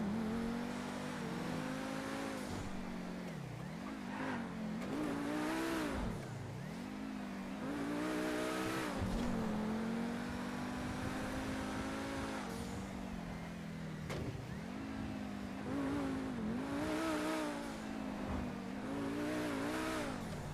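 A car engine in a video game roleplay server revs repeatedly, rising and falling in pitch over a continuous loud drone, close and alone with no talk.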